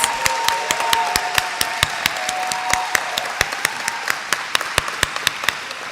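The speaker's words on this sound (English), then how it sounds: "Ladies and gentlemen, let's give them a round of applause." A school gathering applauds its district principals, with crowd clapping underneath and one loud, close pair of hands beating a fast, regular rhythm on top throughout.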